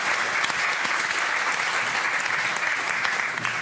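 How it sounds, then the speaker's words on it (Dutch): Studio audience in a Dutch late-night TV show breaking into steady, dense applause that fills the whole stretch at a strong, even level without a break. "Even een applaus."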